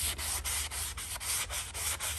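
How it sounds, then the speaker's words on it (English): Light hand sanding of washed, slightly frizzed deck wood with 150 and 60 grit sandpaper: close, rhythmic back-and-forth scratching strokes, about nine in quick succession. "right now just doing some light sanding"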